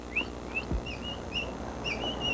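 A man on a riverbank whistles in short, high, repeated notes to attract a young capybara, the chirpy whistles coming every half second or so at moderate distance, with no talking.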